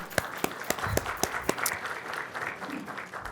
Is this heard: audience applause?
yes